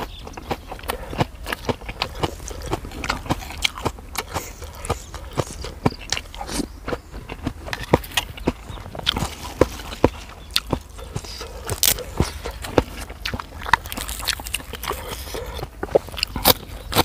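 Someone bites and chews a salad of beef liver with fresh vegetables and lemongrass, close crunchy chews and wet smacking repeating steadily, with no talking.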